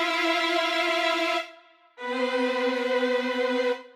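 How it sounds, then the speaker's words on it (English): Sampled orchestral string trills from the Logic Jam Pack Symphony Orchestra play in two sustained chords, each lasting over a second with a short gap between. The trills sound smooth and clear with no other sounds. "and then the trills actually sound like this"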